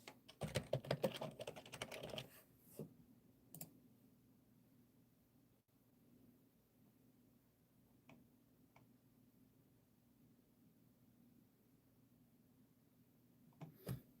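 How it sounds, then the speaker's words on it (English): Brief bursts of keystrokes on a computer keyboard, busiest in the opening two seconds, then a few isolated taps over a quiet room hum, recorded close by in a home livestream setting. "I just typed it into my Google"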